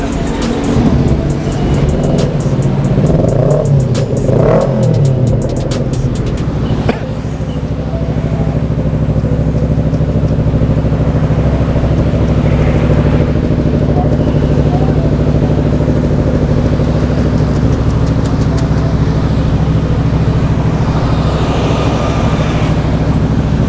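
A motorcycle fitted with an original Racing Corse carbon exhaust revs sharply a few times, then settles into a loud, steady, close-up idle with a deep rumble.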